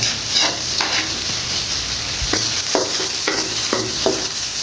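Garlic sizzles in a hot pan for buttered seafood, a steady close crackle of frying broken by several sharp clinks and scrapes of a utensil stirring against the pan.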